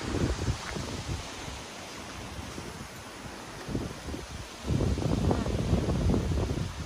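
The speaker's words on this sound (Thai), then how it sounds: "ลมพายุใหญ่สิเข้ามาเด้อเพื่อนๆเด้อ" Strong storm wind roars in broad, steady gusts that swell louder near the end, with a rustling, buffeting texture and faint voices beneath during a hard rainstorm.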